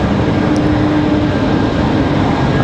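An Airbus A220-100 jet at Raleigh-Durham airport gives off a loud, steady engine roar that holds constant throughout, with no breaks or other distinct sounds.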